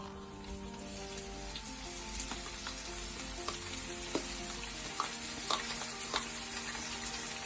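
Onions and chilies frying in hot sesame oil in a pan, a steady close sizzle with occasional pops and light stirring scrapes, no talk.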